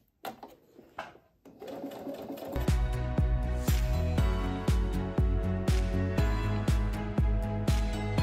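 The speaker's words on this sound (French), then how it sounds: "je peux me permettre de coudre dessus" A sewing machine stitching over plastic mesh for a sports bag, starting with a few brief handling clicks before the motor runs steadily with a loud rhythmic thump of the needle repeating at an even pace, close and alone.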